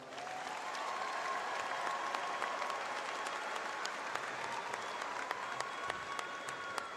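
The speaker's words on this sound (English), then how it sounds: "Could we please give them a round of applause?" A crowd at a high school graduation ceremony applauds steadily for several seconds, a dense wash of many hands clapping at moderate distance, with no talking over it.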